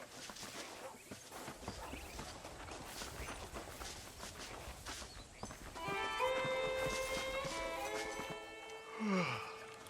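Horse hooves clip-clop in the video game Red Dead Redemption, a soft, steady gait that continues beneath game music rising in the second half.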